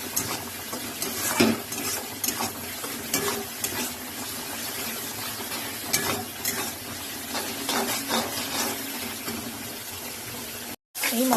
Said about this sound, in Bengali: এবার মশলাটাকে একটু কষাবে?